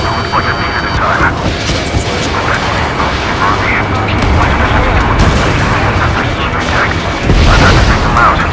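Missile strikes in Ace Combat 7 set off heavy booming explosions over loud continuous jet and battle noise, with radio voices talking underneath.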